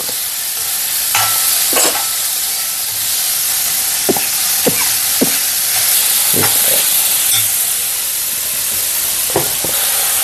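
Cucumber pachadi sizzles and fries steadily in a pan while a spoon stirs it, scraping in a series of short knocks and clicks over the constant hiss.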